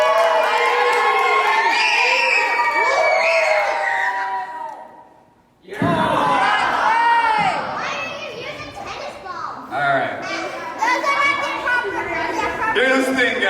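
Crowd of children cheering and shouting at a casual baseball game, loud overlapping high voices that fade out briefly, then surge back in an excited burst with chatter continuing.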